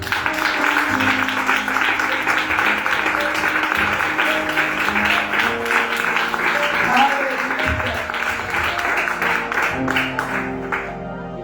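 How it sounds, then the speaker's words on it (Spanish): A church congregation breaks into loud, sustained clapping that runs nearly unbroken for about eleven seconds, mixed with raised voices and cheering, then cuts off abruptly. "¿Cuánto le da un aplauso al Señor?"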